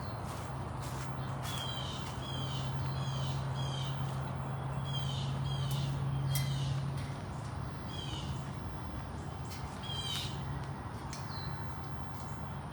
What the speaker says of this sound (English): Very loud crows over here.